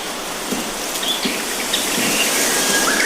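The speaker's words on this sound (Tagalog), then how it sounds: "magluluto tayo ng pritong ibon" A small wild bird, snared in a field, sizzling as it fries in hot oil, a steady close hiss with faint crackles and occasional higher chirps from birds outside.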